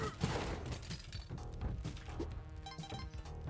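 Rapid bursts of gunfire and impacts in a first-person video game, with a shotgun in play, crackling loud and dense throughout with sharp repeated shots and clattering hits.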